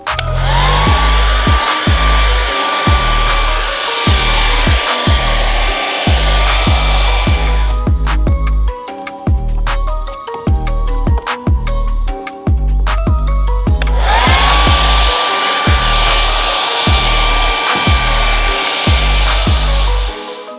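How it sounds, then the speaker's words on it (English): Steady roaring blast of a heat gun warming the side reflectors on a Toyota Supra to peel them off, dropping briefly to a lower setting midway before returning to full blow, with irregular background thumps. "let's start heating these things up and peel it off."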